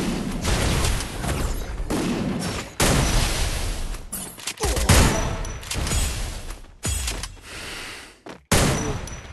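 Rapid gunfire from a battle royale video game, with bursts of automatic fire and sharp single shots aimed for headshots, loud and dense with brief pauses between volleys and no talk.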